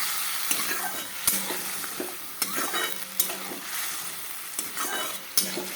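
Cauliflower, potato and egg curry being stirred and sautéed in a pan, a steady close sizzle with repeated scraping and clinking strokes of a spoon against the pot, and no voices.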